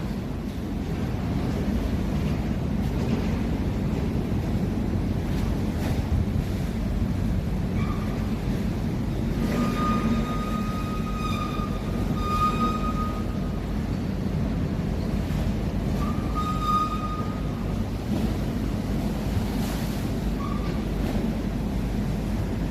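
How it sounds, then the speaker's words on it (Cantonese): Waves and wind along the Hung Hom harbourfront form a constant broadband roar with wind buffeting the microphone, joined midway by brief high chirping tones, with no speech. "呢度就係紅磡嘅新海濱啦"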